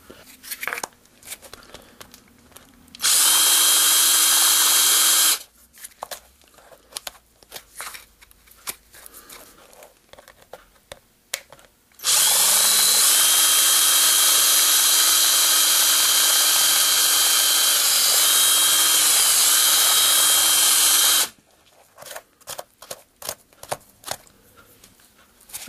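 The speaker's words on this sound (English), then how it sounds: "now I just need to get my drill and drill a hole in there" A power drill bores a hole through a fly-tying dubbing container in two long, loud, steady whining runs, the second with pitch shifts as the bit works through, separated by quieter handling clatter.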